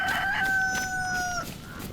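A chicken in the video game DayZ calls out once in a clear, loud, drawn-out cry, followed by quiet background.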